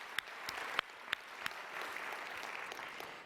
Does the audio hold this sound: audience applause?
yes